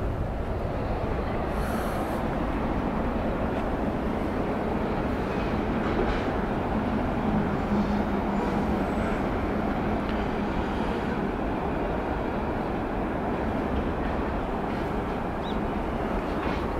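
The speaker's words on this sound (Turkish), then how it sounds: "Şöyle V10 motorumuzu da görelim bir." A BMW M5 V10 engine idles with a steady, dense rumble, loud and continuous throughout, with no talk over it.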